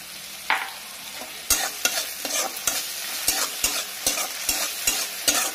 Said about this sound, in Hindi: इसे हम अच्छी तरह से मिलाएंगे। देखिए, सभी सॉस को हम मिला दिए।